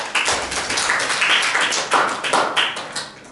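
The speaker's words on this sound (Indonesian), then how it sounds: "Tepuk tangannya dong" A classroom group claps in applause after a student presentation, a dense patter of many hands, fairly loud and close, with uneven bursts lasting a few seconds and no talk over it.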